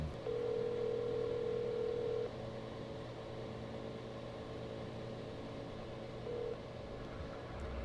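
A telephone call rings through to voicemail: a steady electronic tone holds for about two seconds, then the line falls to a low hum before a brief second beep near the end.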